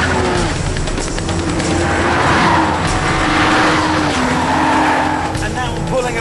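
A BMW Z4 M with 338 brake horsepower pulls away hard, its tires squealing loudly and continuously over a rising engine note, close and sustained throughout.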